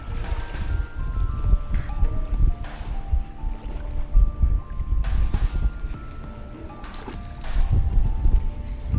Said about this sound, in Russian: дуют ветра вот такие вот, невозможные просто